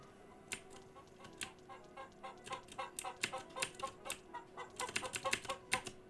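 A chicken in the video game Dude Simulator clucks in quick, uneven bursts of sharp pecking calls, close and fairly quiet over a steady low tone.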